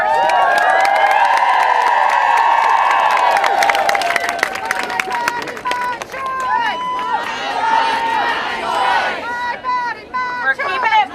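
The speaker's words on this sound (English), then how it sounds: "Give yourselves a huge round of applause." A large crowd cheers and applauds loudly, with whistles and shouts rising over the clapping, gradually thinning out toward the end.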